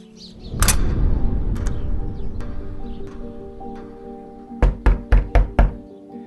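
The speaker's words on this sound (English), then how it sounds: "Someone's at the door." Five quick, loud knocks on a door land in an even burst near the end, following a quieter stretch with a few faint thuds and some background clatter.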